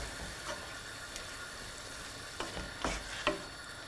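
Lentils being stirred in a cooking pot for an Iranian spinach stew, giving soft scraping swirls with a few louder knocks near the end, fairly quiet and heard alone.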